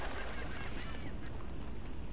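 Birds honk in Grand Theft Auto 5, a few goose-like calls rising over a dense, loud wash of background game noise.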